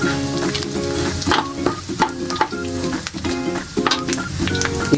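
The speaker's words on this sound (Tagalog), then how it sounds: "Yan na rin yung panggigisa natin dun sa spices. Yung garlic, onion, sibuyas." Garlic and onion sauté in hot oil for Ilocano pork igado, a loud, steady sizzle with scraping stirs and clinks of a utensil against the pan throughout.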